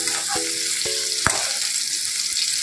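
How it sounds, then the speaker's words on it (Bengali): Bitter gourd and potato pieces frying in a pan, a steady bright hiss with three quick metallic taps of a spoon on the pan early on, then continuous sizzling, and no voices. "এই আলু উচ্ছেটা ভাজা হয়ে গেছে"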